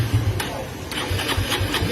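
A Yamaha Mio Sporty motorcycle engine starting and running, a close mid-pitched chugging with a quick sputtering pulse and faint clicks throughout the short burst.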